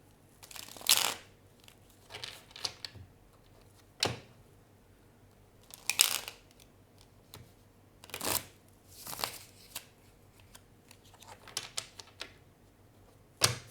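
Tarot cards shuffle in short, crisp bursts of riffling and tapping, repeated about a dozen times with quiet gaps between, heard close up in a calm room.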